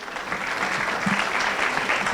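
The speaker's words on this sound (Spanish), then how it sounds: "Un aplauso, por favor." Audience applause greets a guest at a Spanish-language talk, a brief, steady patter of many hands clapping at moderate volume.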